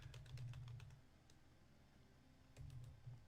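Quick bursts of keystrokes on a computer keyboard during a Gems of War gaming session on a slow computer, with a pause before another short run of taps; close and fairly quiet, with no talking.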